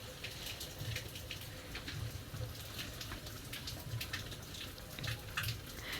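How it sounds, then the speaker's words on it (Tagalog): Water dripping and trickling into a river outdoors, a steady faint patter of drops over a soft continuous flow, with no voices. "ay ang patak po na yan ay sa ilog"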